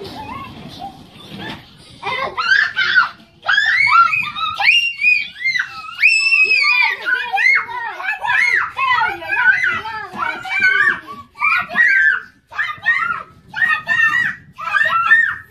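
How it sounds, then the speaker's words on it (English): Kids on a day out on Cape Cod shriek, yell and squeal while playing, a near, loud, almost continuous stream of high-pitched voices with brief gaps and overlapping child chatter. "we've got the kids yelling."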